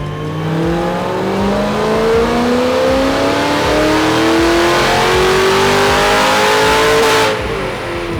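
A new Trans Am 400-H.O., roughly 800 rear-wheel horsepower, is strapped to a dyno and makes a full pull: a loud, rough engine roar that climbs steadily in pitch for about seven seconds, then drops off abruptly.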